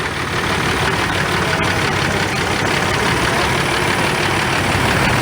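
Engine of a 1966 International 656 tractor rumbling steadily as it passes in an old engine show parade, a loud, continuous low drone with no talking.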